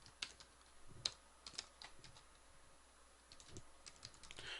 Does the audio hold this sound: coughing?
no